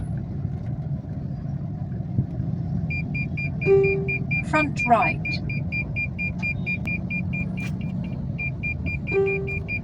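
Car traffic in a jam, with a steady engine and road rumble close by, a repeating electronic beep or turn-signal tone, and a couple of short horn toots, while a voice speaks briefly.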